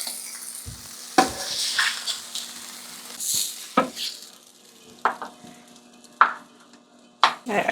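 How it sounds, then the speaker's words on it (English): Butter melts and sizzles in a pan beside asparagus being grilled, a steady frying hiss broken by sharp utensil scrapes and stirring clatter, close and fairly loud with no one speaking. "You see me melting my butter."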